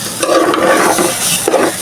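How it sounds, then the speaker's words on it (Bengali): Scraping stir sounds of raw rice grains being dry-fried over high gas flame in a pot, steady hissy sizzle with a few clinks of a spoon, close and fairly loud. "এখন তো চালটা ভাজা ভাজা করতেছি"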